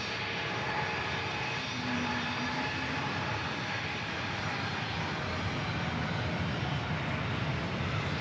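An American Airlines A321 jet at San Diego airport gives a steady, loud roar that stays unbroken for the whole stretch, with no voices over it.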